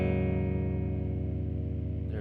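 A Fender-style Jazzmaster electric guitar played through both pickups into a PV Classic 50 amp's clean channel, dry with no reverb or delay: one sustained chord rings loudly with a fast wavering shimmer, then a quick pick scrape at the end.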